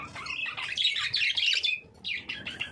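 Pet budgies, one of them blue, chirp in a cage holding a nest with eggs, bright overlapping tweets and squawks that are close and lively, with a brief pause before the calls resume.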